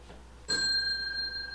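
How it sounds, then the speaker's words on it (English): A bright electronic bell tone sounds once and rings on steadily, confirming a phone message was sent, alone over a quiet background. "It got sent. I heard the bell."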